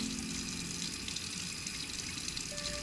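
Tap water running steadily into a sink during face washing, a constant close rushing hiss with no pauses.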